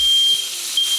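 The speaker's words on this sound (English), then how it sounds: "don't worry, your fire alarms might start screaming at you again" A smoke alarm beeps in a kitchen while steak is pan seared, a steady high-pitched electronic tone that sounds twice with a short gap between, alone and fairly loud.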